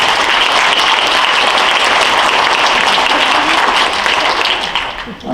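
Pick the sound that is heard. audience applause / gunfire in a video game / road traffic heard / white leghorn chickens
audience applause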